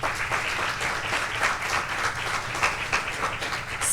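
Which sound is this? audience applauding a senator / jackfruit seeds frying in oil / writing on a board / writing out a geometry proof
audience applauding a senator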